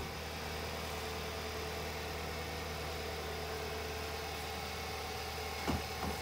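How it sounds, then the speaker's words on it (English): A 2015 Hyundai Sonata engine idles in a low, steady, quiet hum that holds even throughout, with a faint tap near the end. "it is a good, tough little quiet engine"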